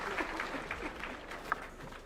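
Audience applause for President Ruto at a Youth International Day event in Kakamega: brief, scattered clapping from a crowd, fairly soft and distant, over a low murmur.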